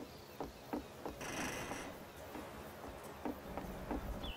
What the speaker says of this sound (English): When you walk over it, it makes a sort of a creaking sound.